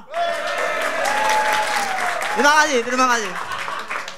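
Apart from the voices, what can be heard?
audience applause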